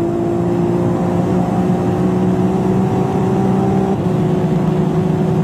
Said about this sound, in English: Even under the wet conditions, Smokey steadily keeps on the gas